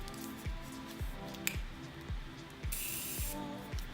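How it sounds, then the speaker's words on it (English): Quiet repeated spritzes from a small makeup setting spray bottle onto a brush, with soft rhythmic clicks of the pump under a faint background hum. "I'm gonna wet it with a setting spray."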